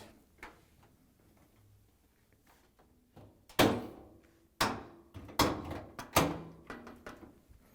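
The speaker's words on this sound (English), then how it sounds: "I'm going to bring that front panel in and place it onto the bottom hinges" A dryer front panel is set onto its bottom hinges: a few quiet taps lead into a cluster of louder, close knocks and clunks as the metal panel seats, sharp hits spaced about a second apart with no talk.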